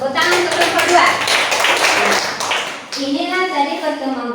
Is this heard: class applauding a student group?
yes